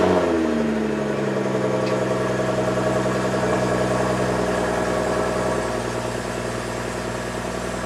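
A BMW 135i with an exhaust leak cold-starts with a brief cranking burst, then settles into a loud, steady, droning idle close by, its revs slowly easing down.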